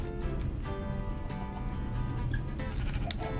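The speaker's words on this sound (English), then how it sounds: "I see one more sheep." Sheep in the Minecraft video game bleat repeatedly in short wavering calls, heard over a busy background of game sounds and music, with no talking.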